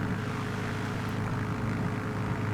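A Yakovlev Yak-9 propeller fighter in Microsoft Flight Simulator runs its piston engine at takeoff power, a loud, steady droning roar with a throbbing low hum and no pauses.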